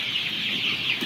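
Young desi and broiler chickens, about 26 to 33 days old, cluck and cheep continuously at close range in a crowded pen, with a steady chorus of overlapping calls.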